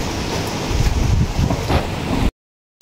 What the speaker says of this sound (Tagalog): Sobra pong hangin.